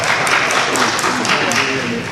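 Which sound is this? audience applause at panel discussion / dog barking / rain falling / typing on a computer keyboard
audience applause at panel discussion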